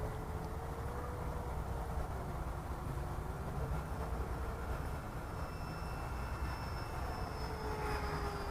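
An E-flite Viper RC model jet passes overhead, its ducted-fan whine steady and moderately distant with slowly shifting pitch over a constant broadband rush, no voices.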